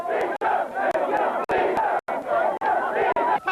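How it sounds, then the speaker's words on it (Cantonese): A large crowd roars and chants in celebration as China's football team beats Oman 1-0 in 2001 to reach its first World Cup finals, heard as loud, voiced bursts broken by short silent cuts. "歡呼聲再一次響徹全國"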